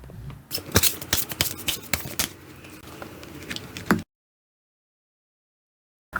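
Tarot cards being shuffled and drawn from a deck: close, crisp riffling and snapping card flicks in quick bursts for about four seconds, then silence.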